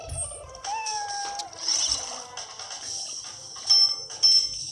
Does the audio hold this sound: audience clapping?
no